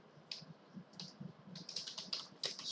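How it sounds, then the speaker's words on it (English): Keystrokes on a computer keyboard, a run of quick, uneven clicks and taps close by that speed up toward the end, with no talk over them. "Say you are typing something here"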